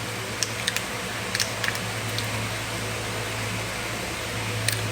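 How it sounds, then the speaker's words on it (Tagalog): An electric fan runs indoors with a steady, low hum and airy whir throughout, while scattered keyboard clicks tap over it nearby; no one speaks. "Naka-electric fan kasi ako eh."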